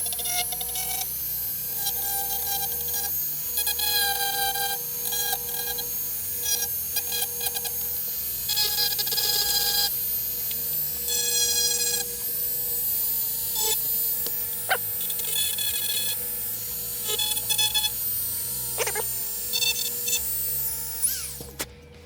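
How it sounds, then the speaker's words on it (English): Dremel rotary tool whines steadily at high speed while cleaning up the broken plastic edges of a MotorGuide Xi3 remote control, close and continuous for the whole stretch with small shifts in pitch. "get my Dremel out and clean up these two edges here"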